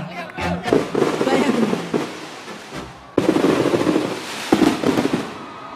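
Fireworks display at a pesantren anniversary celebration and national concert in Yogyakarta: dense, continuous crackling and popping bursts, loud and sustained, with crowd noise beneath.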